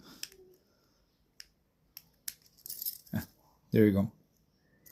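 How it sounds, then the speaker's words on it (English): A skeleton key works the lock of a Master Lock No. 267 hasp padlock, giving scattered metallic clicks and key jangles, then a brief louder rattle as it opens. Someone speaks briefly nearby. "which means they can be opened with these skeleton keys"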